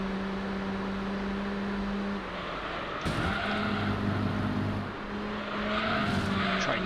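Mazda RX-7 race car in Gran Turismo 3 during a race, its steady high engine drone running loud and constant with pitch shifts as gears change, plus brief tire squeal bursts, no talking.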